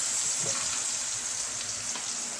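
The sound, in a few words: butter sizzling in a frying pan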